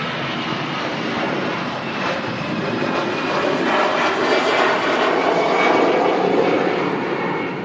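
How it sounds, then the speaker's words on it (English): A jet airliner taking off at Manchester Airport produces a loud, sustained engine roar that swells steadily, with a broad rushing whine, heard from a distance without any talking. "The aircraft now airborne. The landing gear retracting."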